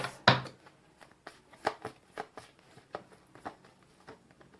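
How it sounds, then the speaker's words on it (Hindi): Tarot cards are drawn one by one from a deck, giving soft papery flicks and snaps in an irregular series, the first louder and the rest fainter taps and slides, with no talk. "उसके बाद मैं 8 कार्ड्स निकालूंगी गाइस यहाँ से"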